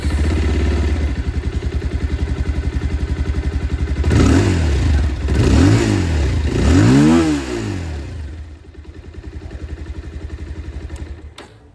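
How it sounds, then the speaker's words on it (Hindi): A Bajaj Pulsar 220F motorcycle engine idles with a throbbing exhaust, then revs up sharply three times in quick succession before settling back to a steady idle. "तो ये था एग्जॉस्ट साउंड।"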